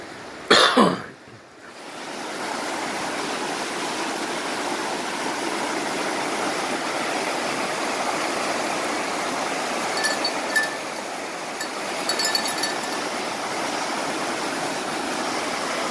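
River water rushing in a steady, broadband wash that sets in after a brief rough burst near the start and continues unbroken, close and fairly loud, in Crown land backcountry.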